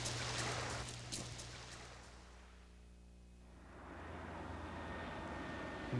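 A fixed-wing airplane passes overhead with a faint, droning engine hum that swells, dips in the middle and builds again, heard outdoors on a remote Alaskan shore with no voices.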